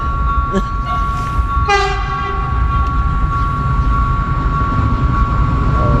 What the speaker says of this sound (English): Oh, I hear a train. Here it is.